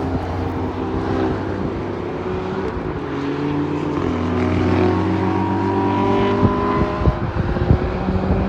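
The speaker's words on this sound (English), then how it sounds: "Man, that C7 is booking. And that BMW." Corvette C7 and BMW race past at Sonoma track, their engines a dense, sustained roar with a rising pitch as they accelerate, heard from the stands at moderate distance.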